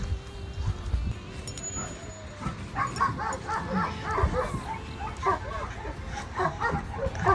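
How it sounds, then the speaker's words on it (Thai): Several dogs bark and yip outside at a dog training field in Japan. The overlapping barks come in repeated bursts at moderate distance, and a person talks at times. "เสียงน้องหมาเห่าหลายตัวนะ"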